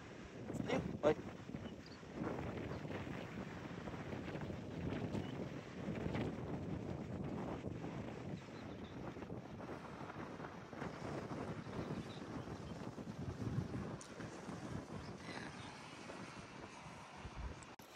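Wind blowing across Whitesands Bay beach in St Davids, Pembrokeshire, Wales, a steady low rushing roar buffeting the microphone throughout, with gusts rising and falling and people talking faintly underneath.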